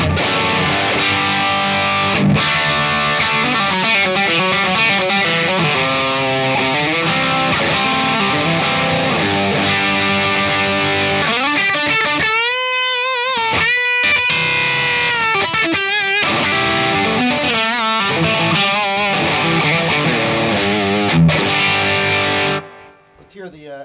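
Electric guitar played through an Echo Park delay pedal with modulated echo adding a slight chorus, into a Divided by 13 amp; sustained, layered notes ring continuously and loud for over twenty seconds before a short decay at the end.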